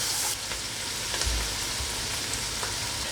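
Chopped ingredients seasoned with salt, pepper and crushed red pepper flakes sizzle steadily in a pot for clam chowder, a close, continuous frying hiss with faint stirring clinks.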